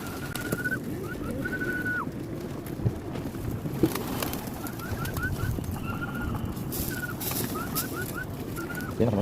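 Pigeons at a rooftop pigeon tower, with repeated short cooing and whistling calls in several bursts over steady background rumble, and occasional faint knocks nearby.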